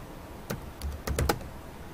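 Computer keyboard typing: a handful of quick, irregular key clicks clustered in short bursts, close and fairly crisp against quiet background hiss, with no voices.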